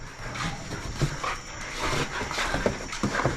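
Small dogs whimper, whine and pant with excitement before feeding indoors, with close, restless bursts of whining and breathing across the scene.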